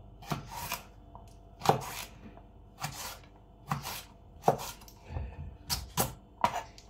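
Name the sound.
knife chopping celery into small dice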